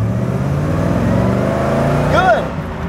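A classic Corvette engine droning loudly from inside the car as it pulls through the gears, its steady hum swelling toward the end, with people talking over it.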